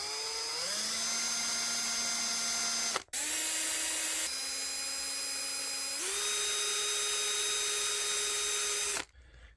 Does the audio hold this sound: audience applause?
no